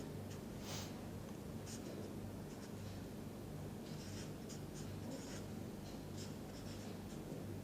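Handwriting scratches softly and steadily, faint and close, with a low background hiss and no voice.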